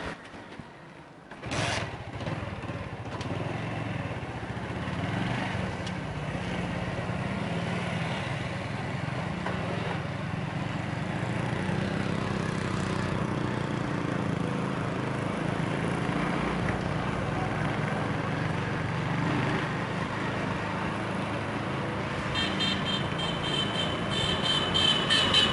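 A motorbike riding along a road, its engine droning steadily and fairly close for a long stretch after a brief start, with wind rush and no talking.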